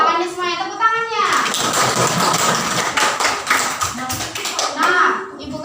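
Schoolchildren in an Indonesian primary classroom burst into a few seconds of lively group applause, right after young voices finish speaking.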